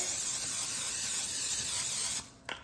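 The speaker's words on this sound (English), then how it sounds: "we're gonna spray it super quickly with some Pam butter spray" A steady hissing spray of Pam butter cooking spray onto a muffin tin lasts about two seconds, then cuts off, followed by a brief clink.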